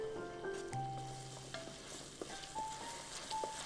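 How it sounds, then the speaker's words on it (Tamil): Mint paste sautés in a pan for mint rice, a steady close sizzle with faint scraping and a few thin tonal whines over it, and nobody speaks. "இது பச்சை வாடை போகிற வரைக்கும் நம்ம கொஞ்சம் வதக்கிக்கணும்"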